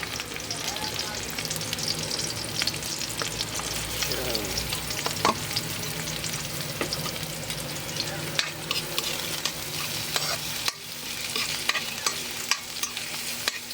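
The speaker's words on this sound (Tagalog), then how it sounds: "So, lalagay natin ng luya." Chopped ginger sizzling and frying in a hot pan for a pork dish, with steady crackling and repeated scraping stirs of a utensil against the pan throughout, close and moderately loud, with no voices.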